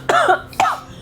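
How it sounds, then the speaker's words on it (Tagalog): Two harsh, close coughs from a woman in a Filipino family drama, one long and one shorter, separated by a brief pause with no talk. "Yan, ubo."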